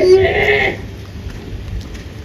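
A goat gives one loud, close bleat that lasts about a second and then stops, followed by quiet background noise from a Totapari goat sale.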